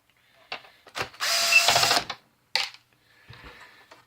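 A power drill backs a screw out of a Polyvision PJ905 DLP projector during repair, giving a close, loud burst of whirring for about a second, with shorter clicks and mechanical rattles around it.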